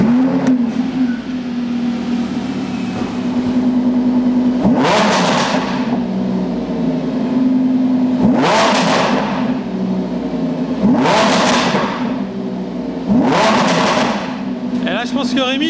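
A sports car with its stock engine and original exhaust revs in repeated bursts, four rising swells over a steady idle hum, loud and close, with no talk over it.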